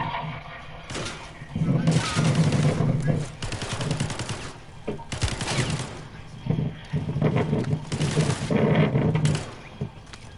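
Airstrike barrages in the video game Call of Duty: several long bursts of rapid, dense gunfire-like blasts and rumbling impacts, loud and close, with a voice talking over them during a livestream.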